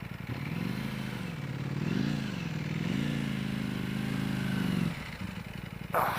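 A 2018 Ducati V4 S motorcycle engine rumbling nearby while filtering through traffic, its pitch rising and falling with throttle changes, then dropping away with a brief scrape at the end.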